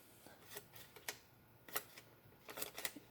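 Small multitool scissors snip repeatedly up close, making sharp, quiet clicking cuts in an irregular rhythm, with several quick snips clustered toward the end.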